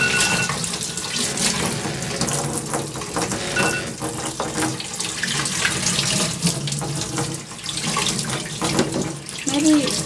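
Tap water runs steadily into a sink while dye is washed out of a man's beard, a continuous close splashing stream with brief faint voices over it.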